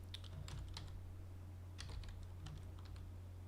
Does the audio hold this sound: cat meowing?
no